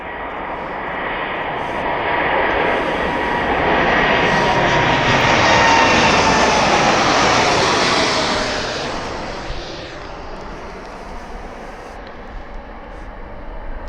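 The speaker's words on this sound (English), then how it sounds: "the best takeoff that aircraft has done since filming this" An aircraft takes off from the East Midlands Airport runway during a live airshow stream, its engine roar swelling loud and broad, peaking mid-clip, then fading as it climbs away.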